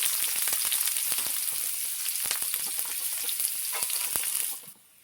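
Onions fry in hot oil with a dense, continuous crackling sizzle peppered with sharp pops, loud and near, cutting off abruptly near the end.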